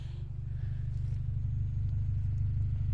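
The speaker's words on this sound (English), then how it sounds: "it's just an old school hole in the exhaust." A 1990s Honda EG4 Civic engine with a large hole in the exhaust idles with a deep, rough, throbbing rumble, loud low burble steady throughout with no voices.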